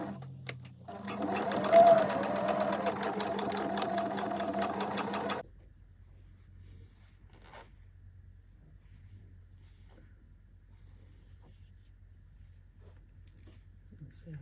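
A sewing machine runs steadily while stitching the hem of a skirt, a close, even whirring buzz for several seconds that then stops, leaving only faint low room rumble.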